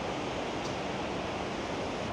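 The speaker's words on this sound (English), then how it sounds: "I feel like the rain is easing up more and more" Steady rain falls outdoors in Prague, a dense, even hiss of broadband noise with no distinct drops or voices, constant and moderately quiet throughout.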